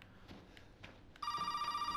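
A telephone ringing inside the Resident Evil 7 video game cuts in sharply after a stretch of faint ambient sounds, then rings on in a steady, loud electronic tone.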